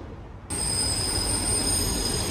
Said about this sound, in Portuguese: Chegou o trem.